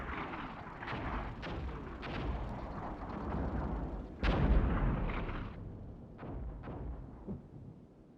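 Artillery rounds landing during a wartime tank battle in Armored Brigade 2: heavy rumbling booms and crackling impacts roll on almost continuously, with one especially loud blast near the middle and sharper bursts toward the end.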